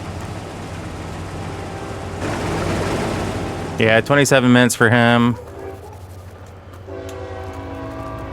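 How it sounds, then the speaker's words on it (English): A passing train in Farming Simulator 22 sounds several loud, close horn blasts in quick succession over a steady rolling rumble, with someone talking casually before and after. "Man, that's a loud train."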